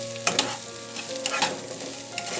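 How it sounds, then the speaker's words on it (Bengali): Three winter vegetables being stir-fried together in a pan for noodles, a steady sizzle with scraping stirs and occasional spatula clatters, close and alone without any talk. "এখন আমি এই 3টা সবজিকে মিশিয়ে আরও 1 মিনিট মতো ভেজে নেব।"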